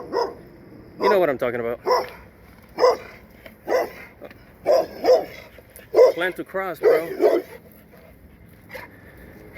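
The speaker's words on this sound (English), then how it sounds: "Sorry, there was some dogs there." Several dogs bark in short bursts nearby, some yips and whimpering mixed in, while someone talks over them outdoors.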